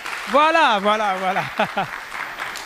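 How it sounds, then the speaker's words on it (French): An audience at a debate event in Kankan breaks into applause, a low scattered wash of clapping that builds once a man's drawn-out call and short spoken words near the start die away. "Alors applaudissez s'il vous plaît."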